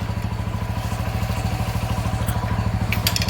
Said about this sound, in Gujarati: આ પણ બાઇકનું એન્જિન ચડી ગયું.